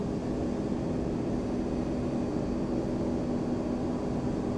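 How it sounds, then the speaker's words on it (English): Boeing 767-300 thrust reversers in Flight Simulator X give a steady, loud broadband roar with a low engine drone underneath, holding constant from start to finish with no voices. "the reverser sounds better than the damn normal sound out here"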